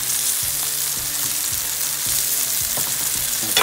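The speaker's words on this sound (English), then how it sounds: "the tomato is breaking down and it's searing" Tomatoes sear in a pan alongside salmon kebabs, a loud, close, constant hissing sizzle with rhythmic stirring scrapes roughly every half second and no voices.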